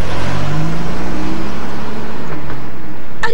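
A cartoon car pulls away, its engine droning loud and close with a rising rev before the sound thins out, ending in a short sharp noise.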